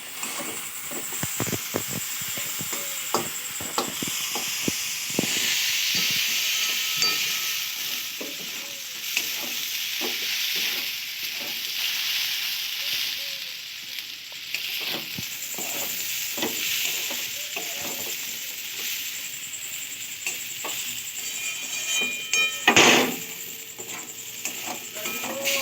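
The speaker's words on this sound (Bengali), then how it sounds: "এবার সুন্দর করে নাড়বো।" A spoon scrapes and stirs semolina halwa (suji halwa) in a pan, with repeated close scraping strokes over a steady sizzling hiss that runs the whole time, ending in a sharper knock near the end.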